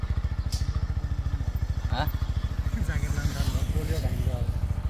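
A motorcycle engine putters steadily in rapid, even pulses close by, with faint voices talking in the background.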